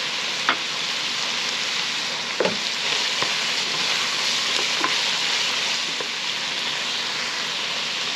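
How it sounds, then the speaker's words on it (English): Garlic sizzling steadily in a hot pan for a jambalaya with lobster mushrooms, a loud continuous frying hiss broken by a few soft clicks of a utensil stirring. "at this point I'm going to add my garlic"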